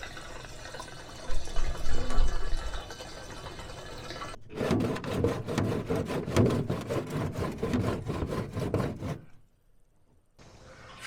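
Ethanol-free 91 gasoline pours into a 1954 Willys military jeep, a close, rushing liquid pour with rhythmic glugging that runs for several seconds, stops abruptly, then briefly resumes after a short silence.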